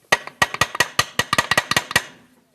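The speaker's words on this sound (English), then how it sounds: "I believe we can get it off by tapping it here" Hammer blows tapping on the hub of a small-engine lawnmower blade to knock it loose, about a dozen sharp metallic strikes in quick irregular succession, close and loud, with no talk.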